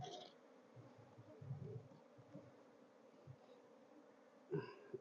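Honey bees hum around an open hive during a brood frame inspection, a steady low drone with brief louder swells and a sharper burst near the end.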